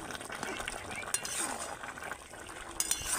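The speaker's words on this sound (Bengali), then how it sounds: "আবার আমি ভালো করে একটু নেড়ে দেব" Jackfruit curry is stirred in a pan, with soft scraping and occasional light clinks of a utensil over a faint sizzle, close but quiet.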